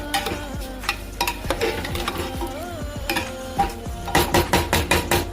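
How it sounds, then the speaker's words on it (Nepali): Home-grown rice frying in a pan as a spoon stirs and scrapes it, giving a steady sizzle broken by repeated scraping strokes that grow quicker and sharper toward the end. "एकछिन भुट्नुपर्छ।"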